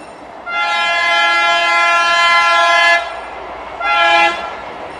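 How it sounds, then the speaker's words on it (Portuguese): A train passes close by during an outdoor Mass after a candlelight procession in Casal de Álvaro, Espinhel, Águeda, its loud sustained horn blaring for about two and a half seconds, then sounding again in a shorter blast. "E agora, com o comboio a passar"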